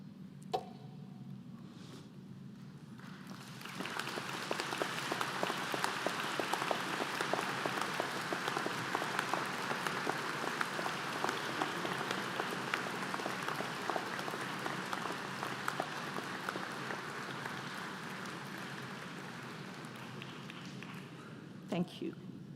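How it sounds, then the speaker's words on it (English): Graduates at a University of Guelph convocation break into sustained applause after a brief quiet spell, a broad even clapping that carries on for about twenty seconds before stopping. "now would be a good time to stand, look around you and behind you, and applaud all who have helped you to get to this point"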